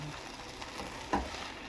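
Soft sizzling of vegetables being stirred into Spanish rice in a frying pan, a steady faint fry with a brief scrape of the spoon near the middle.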